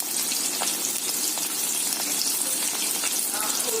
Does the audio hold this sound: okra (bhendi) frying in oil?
yes